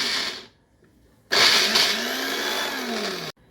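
A kitchen mixer grinder whirs loudly, blending pineapple with tender coconut water, salt and lemon. A short burst stops, then after a pause a longer steady run follows close by and cuts off abruptly.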